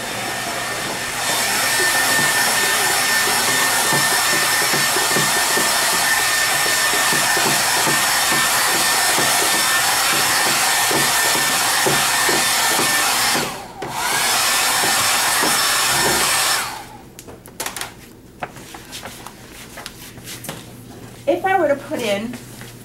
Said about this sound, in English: I'm just going to hit it with a blow dryer.